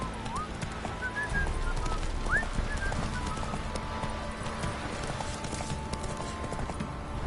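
Horse hooves clip-clopping at a walk in a street, a series of irregular hollow knocks, fairly near, with faint bird calls and a brief whinny-like squeal in the background.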